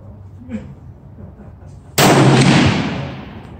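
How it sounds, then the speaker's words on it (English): A single sharp rifle shot from a Thompson Center Compass 6.5 with a thin barrel cracks out after a quiet lead-in, loud and close, with a decaying echo afterward. "with a Thompson Center thin barrel, I'm going to be shooting at the upper middle target, 3-shot group"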